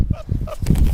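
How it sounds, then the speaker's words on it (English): A goose-like bird honks outdoors in a few loud, close, nasal calls in quick succession, with faint background sound between them. "this is the bird right here"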